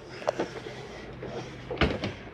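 The door of a Flagstaff MAC 176LTD camper slides forward on its wires with a couple of soft clunks early on and a louder rattling thud near the end, over faint background noise.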